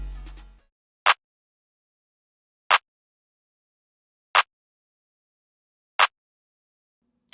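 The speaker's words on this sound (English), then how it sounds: "I started with simple clap" Simple clap sample from a trap-style beat in FL Studio, struck alone four times at an even, slow pace, each a sharp, bright, dry snap separated by silence, after a brief tail of music at the start.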